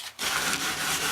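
A cloth or hand wipes dried gel off a tabletop during a camcorder power cord repair, one brief steady rubbing stroke, close and fairly loud.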